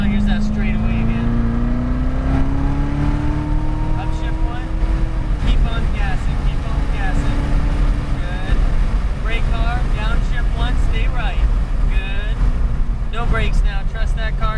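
Chevrolet Corvette C7 Z06 accelerating hard down a racetrack straightaway, loud in-car engine roar rising through the gears with a shift, wind buffeting the microphone and an instructor talking over it.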